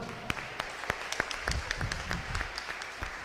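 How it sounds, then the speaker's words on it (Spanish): Congregation at a Saturday afternoon Mass applauding, fairly faint and distant scattered clapping with sharp individual claps over a reverberant room murmur. "¡Y yo le doy un aplauso a mi mamá!"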